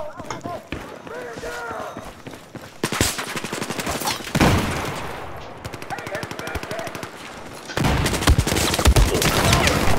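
Rapid automatic rifle fire from a FAMAS in Battlefield 4 multiplayer, several loud bursts of rattling shots with game sounds and voices throughout.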